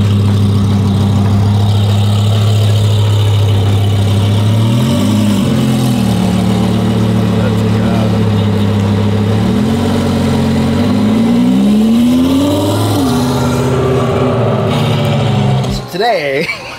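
A naturally aspirated Honda Civic engine idles loud and close, with its pitch rising and falling through several revs, then shifts as the car pulls away near the end.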